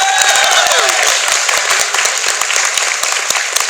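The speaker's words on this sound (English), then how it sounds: "That was an applause break, by the way." Enthusiastic applause from a fan convention audience at a Transformers Q&A panel, loud and sustained, with many sharp individual claps standing out from the continuous roar and a few whoops or cheers rising near the start.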